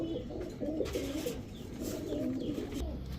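Pigeons cooing in low, repeated rolling calls, a few birds nearby over a faint background hum, with no talking.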